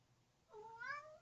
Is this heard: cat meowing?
yes